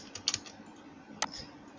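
A computer mouse clicks while pasting in Microsoft Word, with a quick double click followed by a single sharp click about a second later. The clicks are close and crisp over a quiet room.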